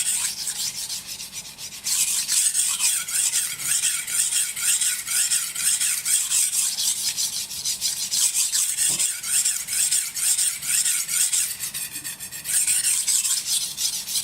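A Western kitchen knife is ground lightly on a 4000-grit whetstone, with continuous close scraping and rubbing strokes in a rhythmic back-and-forth, briefly pausing near the start and end, with no voices.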